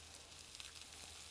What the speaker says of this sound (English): Some mushrooms and onions. We want that sizzle.